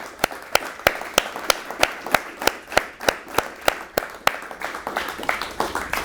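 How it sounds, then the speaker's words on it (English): Steady, evenly spaced hand claps follow a panel discussion at a business event, about seventeen crisp, close claps in a regular rhythm, with the later ones becoming slightly looser and softer. "Let's give a huge applause to these three."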